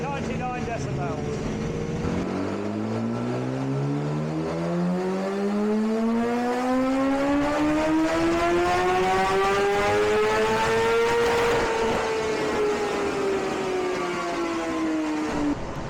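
Motorcycle fitted with a packed exhaust silencer revving hard on a dyno, engine pitch climbing steadily through the gears to a peak before easing off, loud and close with a rasping exhaust note.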